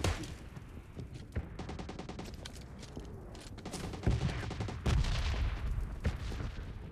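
Rapid bursts of automatic gunfire crackle through a PUBG Mobile Lite match, dense repeated shots in clusters with a few heavier bangs, fairly close and continuous across the stretch.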